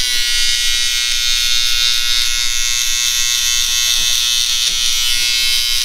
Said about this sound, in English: I like to use my Babyliss trimmer to actually take it down to as close to skin